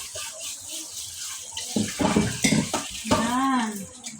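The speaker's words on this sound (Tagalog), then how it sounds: "Kaya hugasan natin mabuti yung mga binibili natin sa palengke." Market produce being washed under a running tap, a steady splash of water with some handling and clatter building toward the end, close and moderately loud.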